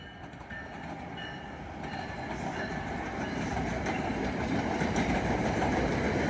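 A train rumbles past close by, a steady heavy roar of wheels on rails that grows gradually louder through the clip, with no voices.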